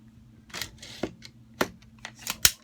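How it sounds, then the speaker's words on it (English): Metallic clicks and clacks as a rifle bolt is pulled back, several sharp separate snaps spread over a few seconds, close but quiet with no talk. "let me pull this bolt back"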